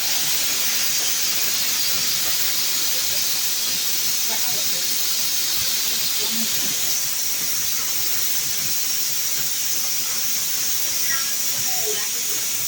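Vegetables fry and hiss in a pan on a home stove for a mixed vegetarian dish, giving a steady loud broadband sizzle that runs the whole time with no pause.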